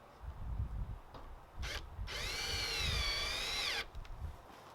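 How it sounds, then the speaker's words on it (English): A power drill bores holes into the corner of a wooden lean-to, giving one sustained high whine of nearly two seconds with brief bursts and handling knocks before and after, close and clear. "I personally drilled 4 holes in the corner first"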